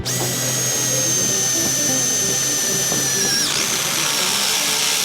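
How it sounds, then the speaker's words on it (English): Power drill boring holes in metal to fit an oil filter bypass system, a loud continuous whine that holds steady before dropping in pitch as the bit breaks through near the end. "Let's get the holes drilled up."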